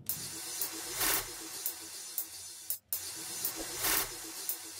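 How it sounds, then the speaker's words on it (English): Amapiano riser effect from a drum-and-effects section of a Crayon and Ayra Starr beat, a bright hissy noise sweep that swells repeatedly in roughly one-second surges, with a brief dropout near the middle, heard alone. "This guy right here is a riser."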